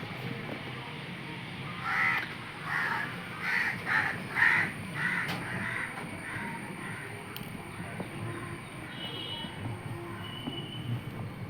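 A crow caws outdoors in a garden, a run of several harsh calls clustered near the start, fairly close, then fading to a steady outdoor background.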